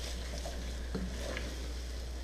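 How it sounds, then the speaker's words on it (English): Boiled katahar seeds fry in a pot, a steady hiss and sizzle filling the background with a few faint scraping stirs and light taps on top. "So I've stirred this around for a few seconds."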